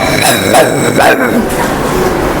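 A voices an angry dog's bark, a few short, loud, gruff bursts delivered close up in a school setting, the imitated barks coming in quick succession over a couple of seconds.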